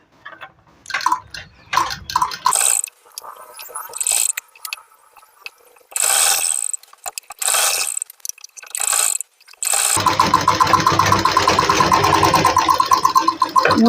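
A sewing machine clatters in choppy stop-start bursts, then runs continuously and loudly up close while double-stitching the side seam of a kameez.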